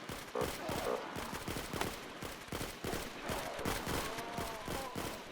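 Rapid bursts of gunfire and repeated shots from a wave-based shooter video game, dense and continuous across the clip, with scattered game effects and no talking.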